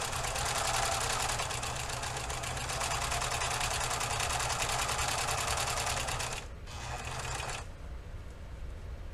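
A serger runs along the side seam of a bodice with a loud, continuous, fast mechanical whirr close by, then eases briefly to a lower hum before speeding up again near the end.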